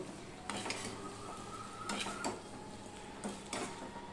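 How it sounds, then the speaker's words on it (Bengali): Spoon scraping and clinking in a pot while fried spice mix and sugar are stirred together, in a few separate bursts of stirring with quieter gaps between. "এবার সম্পূর্ণটা আমি ভালো করে মিশিয়ে দেব"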